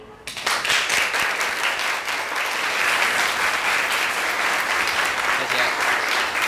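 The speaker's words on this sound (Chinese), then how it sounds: "所以我们现在先来拍手，谢谢吕萍" A classroom of students applauds a classmate with sustained, dense clapping that starts abruptly and holds steady and loud throughout.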